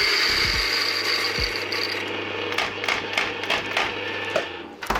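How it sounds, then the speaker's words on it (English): A coffee grinder crunches through coffee beans in a barista setting, a close, rattling mechanical grinding that starts loud and steady, then breaks into choppier clicks and bumps near the end. "So I'll grind some coffee."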